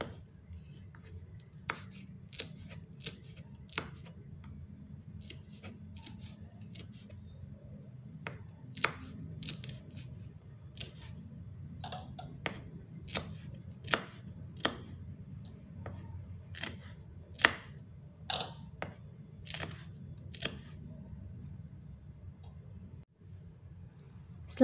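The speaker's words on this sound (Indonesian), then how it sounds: "Kemudian iris cabai" A knife slicing chili peppers on a cutting board, giving sharp, irregular clicks over a low steady hum for preparing stir-fried bean sprouts with scrambled egg.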